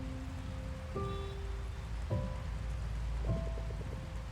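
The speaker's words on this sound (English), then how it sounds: "Ah, yes, rain." Steady rain falls in the video game Until Then, a soft continuous wash of drops on surfaces, with a few faint tonal game sounds and brief soft thumps over it; no one speaks.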